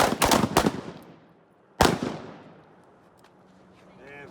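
A carbine fires on an outdoor shooting range during a training course: three sharp shots in quick succession, then a pause and one more loud report, each trailing off in echo.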